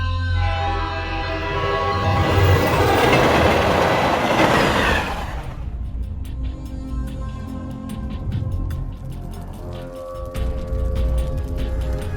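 A train runs along the rails, loud and close, with a rumbling roar that builds then settles into a steady rolling clatter of wheels and carriages.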